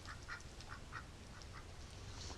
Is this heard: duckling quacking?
yes